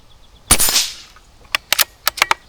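A Barra 250z budget air rifle fires one loud, sharp shot up close, followed by a series of fainter, quick snaps or pellet impacts at spaced intervals on targets meant for .22 rimfire.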